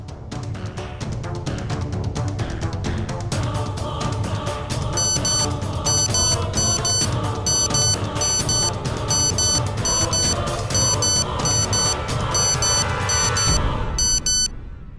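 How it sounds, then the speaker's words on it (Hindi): A wristwatch alarm played back in a courtroom drama rings out as a steady, repeating electronic beep pattern over a dense musical background, loud and continuous for about fifteen seconds. "अपनी घड़ी का अलार्म जरा अदालत को सुनाने का कष्ट करेंगे"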